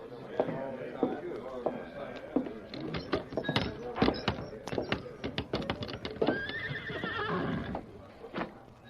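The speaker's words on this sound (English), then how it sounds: "Who owns this black horse?" A black horse whinnies, with a longer neigh near the end, among hoof clops and wooden thunks, while people talk over it.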